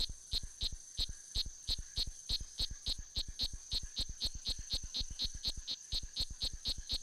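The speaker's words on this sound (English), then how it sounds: "The males are very vocal, calling not only to attract mates, but also to ward off any rivals." A strawberry poison frog male calling, a rapid steady series of sharp chirping clicks repeated about three times per second, fairly faint and alone throughout.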